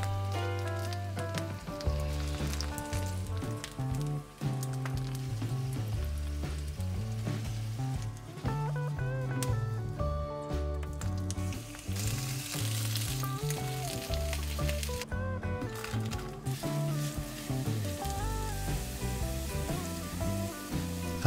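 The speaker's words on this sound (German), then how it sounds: "In heißem Öl ungefähr 4 bis 5 Minuten von jeder Seite schön braun anbraten." Steady sizzling of vegetarian cabbage rolls frying in hot oil, continuous and fairly loud, with music playing throughout.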